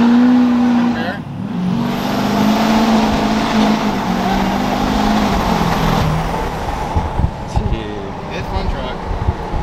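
A big-turbo GMC Sierra 2500HD pickup with a coilover conversion, its engine revving hard while drifting, a loud sustained roar with tire noise and shifting pitch, as people talk over it.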